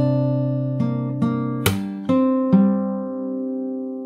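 Solo fingerstyle acoustic guitar plays a short phrase from a song, with several plucked notes, a sharp percussive slap in the middle and sustained ringing chords, close and clear.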